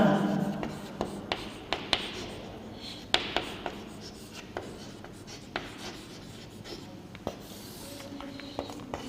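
Chalk or marker scratches out the reactivity order during a chemistry lesson, giving short scraping strokes and sharp taps in an irregular rhythm, close by, with a teacher talking quietly in the background.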